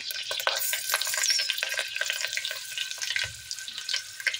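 Mustard seeds, green chillies, cloves, cinnamon and bay leaf frying in hot oil in a pan, a close crackling sizzle with light spatula stirring and scattered pops.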